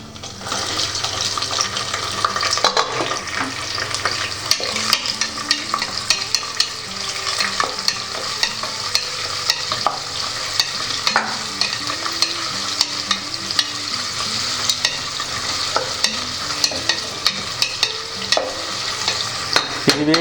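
Onion fries for tomato biryani as a utensil stirs and scrapes the pan over and over against a steady close sizzle.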